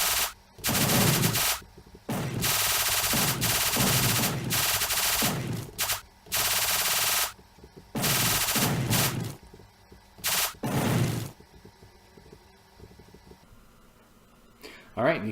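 Rapid blaster fire from shooting asteroids and an alien in a Unity-built Asteroids game, loud bursts of continuous shots separated by short pauses, with talking in between.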